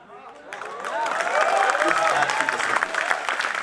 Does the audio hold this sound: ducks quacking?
no